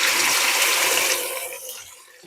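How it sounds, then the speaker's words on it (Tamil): Onion paste added to hot oil with spices in a pan for Ambur chicken biryani, giving a loud, steady broadband sizzle that fades slowly toward the end, with no talking. "வெங்காய விழுதை வந்து இதில் கலந்துக்கலாம்."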